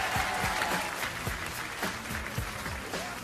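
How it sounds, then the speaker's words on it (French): A television talent-show audience applauds a pickpocket magician's stage act, a dense, steady wash of clapping from many hands that holds at an even level throughout, with low thumps from the stage underneath. "On applaudit Hamid, mesdames et messieurs."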